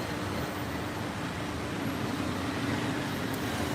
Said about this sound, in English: That's why there's so much traffic.